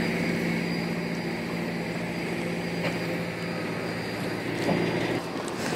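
Steady aircraft engine roar across the small apron of Santander Airport in Cantabria, Spain, a continuous loud droning hum with a faint higher whine and no voices.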